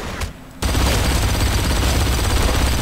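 Mounted machine gun in the Blacksite Area 51 video game firing a sustained, continuous burst after a brief quiet lull, loud and dense with heavy low-end rumble throughout.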